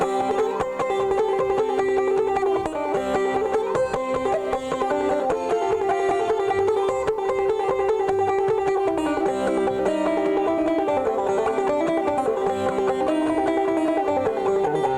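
Banjo at the 1990 Tennessee Banjo Institute imitating John Henry's hammer striking, played as a sustained, ringing melodic passage with sliding notes, loud and continuous for fifteen seconds with no voices.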